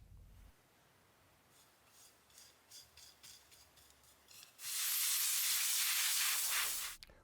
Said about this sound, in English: use compressed air to blow off any excess to keep it nice and clear